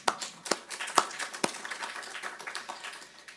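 Small audience applauding at a panel discussion on U.S.-Taiwan relations, scattered hand claps that fade gradually over a few seconds.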